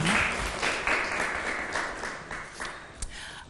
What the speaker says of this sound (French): On applaudit pour Josiane.